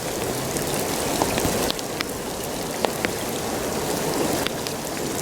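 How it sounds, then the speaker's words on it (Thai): Steady rain pours down around a flooded weir where fish are being caught with a lift net, a dense continuous hiss with scattered sharper drop hits and no talking. "ฝนกระตก"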